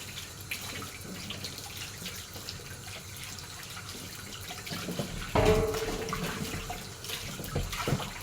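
Hot water running from a tap while cleaning meat, a quiet ongoing trickle and splash that swells into a louder gush midway, with drips and handling noises, no speech.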